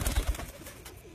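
A tent-type racing pigeon coos, a couple of soft, low throaty pulses at the start that fade quickly, close by with no talking.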